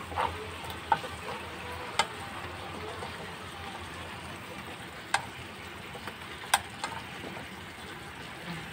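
Pinakbet being stirred in a frying pan, a steady low sizzle with a few sharp scrapes and clicks of the utensil against the pan at irregular intervals, close and fairly quiet.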